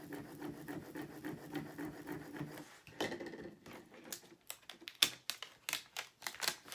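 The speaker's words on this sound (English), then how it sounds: "now we're going to put this transfer tape on here. Adhere it on here." Transfer tape is rubbed and smoothed over cut vinyl letters for a Valentine's craft, giving soft scraping strokes followed by sharper taps and clicks near the end.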